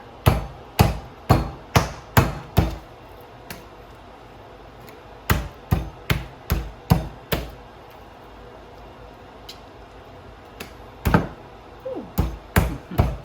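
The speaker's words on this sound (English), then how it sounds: "So just pound them a tiny bit." Chicken breasts are pounded thinner with a kitchen mallet in a series of sharp, close, evenly spaced thwacks arriving in bursts of several blows, with short pauses between groups.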